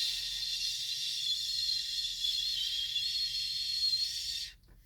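A voice imitates tinnitus ringing with a steady, thin, high-pitched hiss. It is held evenly for about four and a half seconds, then stops abruptly, leaving near silence.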